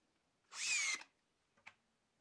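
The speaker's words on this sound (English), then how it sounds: "Just mark out a 20mm inset and screw the legs in place." Power drill driving screws to fix hairpin legs onto a cabinet, with one short whirring burst of about half a second, then a soft click, fairly faint in a quiet room.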